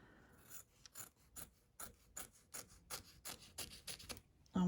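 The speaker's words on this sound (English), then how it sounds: "you just want to trim on the topmost side of that stitch line that it just did" Scissors trimming fabric along a stitch line, a quiet, close series of regular crisp snips and rasping cuts, about a dozen in steady rhythm.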